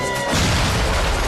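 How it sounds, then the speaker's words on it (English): Loud, dense roar of explosions at a burning house in Boynton Beach, Florida, with a heavy low rumble surging in after a brief lead-in and continuing unbroken. "Belching explosions, threatening an entire neighborhood."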